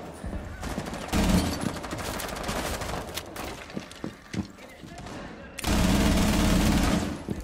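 Gunfire in Rainbow Six Siege, with loud bursts of shots, a sustained volley near the start and another near the end, plus scattered single cracks and thuds, under a player's talk.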